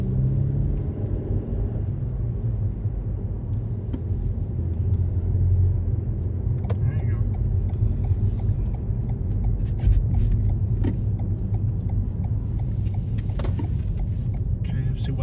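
Steady car engine and road rumble from inside a vehicle driving through town streets in Belle Glade, Florida, a continuous low drone with a few faint clicks and no voices.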